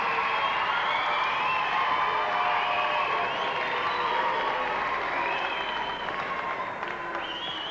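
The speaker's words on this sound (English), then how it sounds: "And a round of applause, I think, for the North American team." Audience applause and cheering for the North American team at the 1986 BMX Beat International Freestyle Competition finals, a dense steady roar of clapping with scattered whoops filling the hall throughout.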